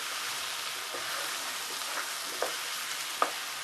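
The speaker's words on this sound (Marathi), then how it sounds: "सर्व भाज्या छान मिक्स करून घ्यायचे." Mixed vegetables for Maharashtrian bhogichi bhaji sizzle steadily in a pan while being stirred, with a constant soft hiss and occasional light scrapes and taps.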